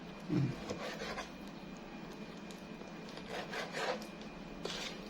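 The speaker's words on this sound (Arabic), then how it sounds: "هنبتدي نقطع الكبده كده" A knife slices liver into small pieces in a home kitchen, giving steady rasping, rubbing cuts on a board, close and continuous with a few stronger strokes.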